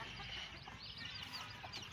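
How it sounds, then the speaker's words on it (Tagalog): Purebred Pamaiq straightcomb chickens and new hatchlings cluck softly in a small backyard, faint scattered clucks and chirps over quiet ambient noise. "Nagpaparami tayo ng mga highly kickers na mga chicken."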